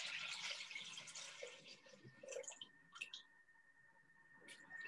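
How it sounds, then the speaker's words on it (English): Water pours into a Thermomix bowl, set up for a Varoma steaming class: a quiet, splashy stream that is strongest at the start, then thins into scattered trickles and drips. "We're just going to put 20 ounces of water"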